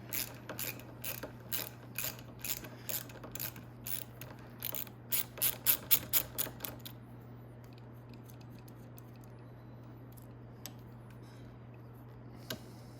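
Ratchet wrench with a 10mm socket turning a bolt on the rear brake assembly of a Venom Grizzly 125cc ATV: a quick run of sharp, close clicks for about seven seconds, then quiet with a couple of isolated ticks.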